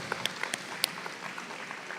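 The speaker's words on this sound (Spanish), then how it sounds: "Un aplauso para el hermano Víctor y la hermana Lili." A church congregation applauds Brother Víctor and Sister Lili with scattered, fairly faint claps in a room, ending in a louder sound at the close.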